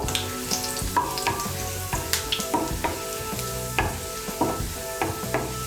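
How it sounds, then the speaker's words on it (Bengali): Five or six cloves of chopped garlic fry in hot oil for an egg and aubergine bhorta, a close, bright sizzle broken by regular scraping stirs at roughly half-second to one-second intervals, with no talking. "রসুন কুচিটাকে হালকা করে একটু ভেজে নেব"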